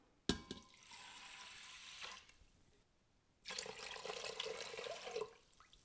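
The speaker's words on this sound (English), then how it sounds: "Then I'm adding 5 cups of water." Water poured into an Instant Pot, heard as two close splashing streams separated by a short pause.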